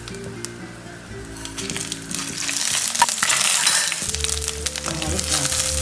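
Spices sizzle in hot oil for sambar, with dried red chillies, cumin, fennel and fenugreek crackling and popping steadily while being stirred, close and lively without talk.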